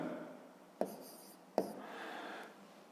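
A pen writing the letter V by hand on paper during a fifth-grade math exercise, a soft scratching stroke broken by two sharp taps, close and quiet with no talking.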